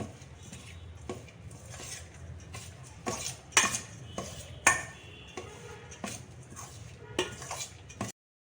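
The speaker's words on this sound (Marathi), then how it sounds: "हे सर्व जिन्नस आपण एकत्र करून घेऊ" A spoon stirring kofta ingredients with ginger-garlic paste and salt in a bowl makes soft scraping with intermittent metallic clinks and knocks against the vessel, close and moderately loud, without speech.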